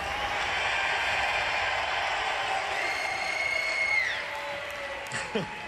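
At the BlizzCon 2011 live raid event, an arena crowd roars and applauds for the Blood Legion raid team in a dense, sustained wash of noise that fades slightly at the end.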